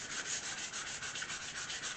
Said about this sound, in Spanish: Esta está más diluida y le cuesta un poquito más lijar.